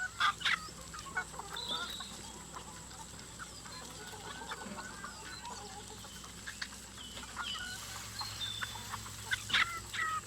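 Laying hens clucking and murmuring in an organic-farm henhouse, with scattered sharper calls over a steady low hum of background noise.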